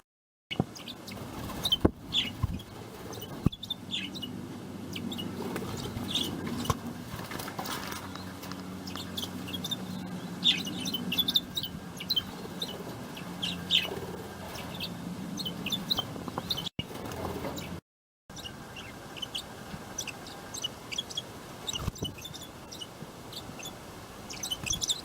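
Rosa Bourke's parakeets chirping in a small flock, scattered soft tweets and calls repeating throughout, fairly faint and near, with a brief silent gap near the end.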